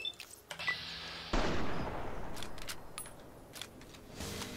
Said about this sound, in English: So there's a reload, very fast reload.